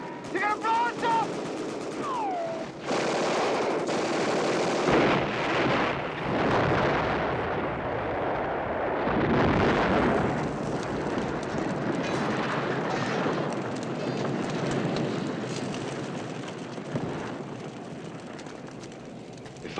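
Heavy gunfire and explosions in a TV action scene: rapid bursts of shots, booming blasts and a rumbling roar, loud and dense, with occasional shouted voices mixed in.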